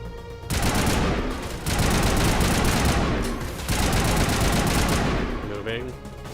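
Long sustained bursts of assault rifle fire in the Mass Effect video game, dense and loud, broken by short pauses between volleys.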